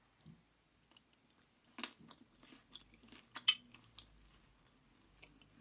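Someone bites into a chocolate and peanut butter snack during a taste test, giving close, quiet chewing with a few sharper crunchy bites and a light clink in between, no talking.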